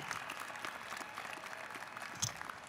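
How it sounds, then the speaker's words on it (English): Standing graduates at a university commencement give a round of applause, a faint, distant, continuous patter of crowd clapping in a large venue. "please get on your feet, graduates, and give them all a round of applause"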